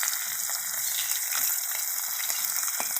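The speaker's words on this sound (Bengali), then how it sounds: "মাছগুলো ভালো করে লাল লাল করে ভেজে নিচ্ছি।" Fish frying in hot oil in a pan until browned, a loud continuous hissing sizzle up close with faint crackles and pops throughout, no speech.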